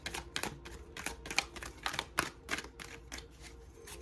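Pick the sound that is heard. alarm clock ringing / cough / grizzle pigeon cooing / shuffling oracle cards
shuffling oracle cards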